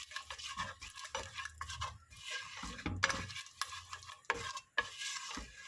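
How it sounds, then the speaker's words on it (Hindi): Biryani masala is stirred and fried in a pot for a one-pot vegetable biryani. Quiet, uneven spoon scrapes repeat over a soft sizzle, with a few sharp clinks against the metal. "थोड़ा सा फ्राई कीजिए।"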